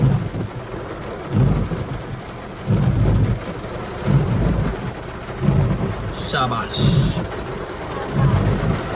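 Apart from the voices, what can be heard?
rain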